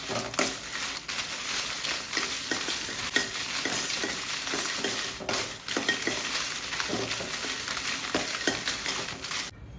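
Dried red chillies dry roasting in a pan for homemade masala powder, an even rustling sizzle broken by repeated stirring scrapes and light clinks of a utensil against the pan, close and without voices.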